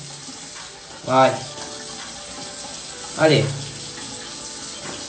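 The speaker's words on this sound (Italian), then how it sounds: "sotto l'acqua bollente, guardate l'umbrice come pela le salsicce per farsi l'aperitivetto" Boiling water splashes over sausages to loosen their skins, two short bursts of pouring and sizzle-like hiss about two seconds apart, with a person talking quietly between them.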